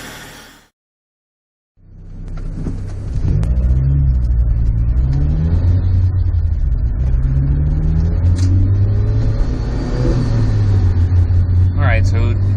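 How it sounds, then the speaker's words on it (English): A Mazda Miata with a Rotrex supercharger pulls away after a brief silence, its close, loud engine rising and falling through repeated accelerations with a rushing induction whine over a deep rumble. "So driving with the Rotrex Supercharger is just a real joy."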